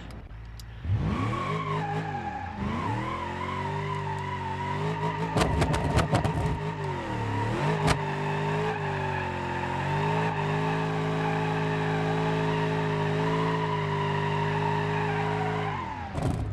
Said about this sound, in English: Just blazes the tires.